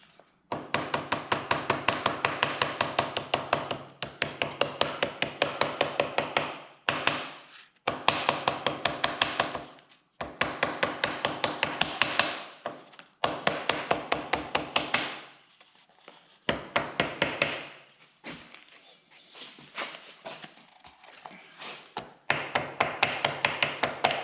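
A small hammer taps in quick, steady bursts of sharp strikes with brief pauses between runs, close and clear, during a John Deere B tractor engine rebuild while working on the magneto and first reduction.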